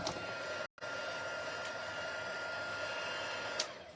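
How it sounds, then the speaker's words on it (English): A craft heat tool blows hot air over black embossing powder with a steady whirring hiss and a thin whine, dropping out for a moment early on and then running on evenly, fairly quiet and close. "I have my heat tool"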